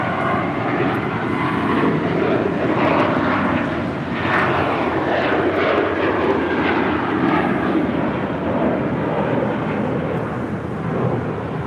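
An airliner roars down runway 25 right at LAX on its takeoff run, a loud, steady, broad jet engine rush that persists throughout with no voices.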